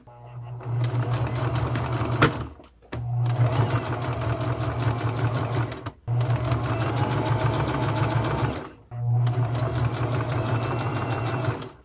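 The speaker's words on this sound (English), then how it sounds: "I'm going to use straight stitch, and I will stitch the top and the bottom" A sewing machine runs steady straight stitching with white thread through a double-thick shirt back, humming and chattering in four long runs with brief pauses between them.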